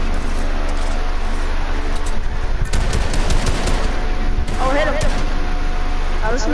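Rapid bursts of automatic gunfire and scattered shots from a first-person shooter video game, loud and sustained throughout, with players' voices talking over the shooting.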